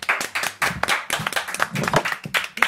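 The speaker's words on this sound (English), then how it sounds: "Tom, everybody, give a round of applause to Tom" Live studio audience clapping on a basement comedy talk show, a brief burst of close, uneven hand claps filling the short moment without talk.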